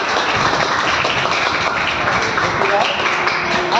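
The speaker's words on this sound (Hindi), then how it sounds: "तालियां बजा दो" Students in a classroom break into dense, continuous clapping that stays loud throughout, with voices mixed in.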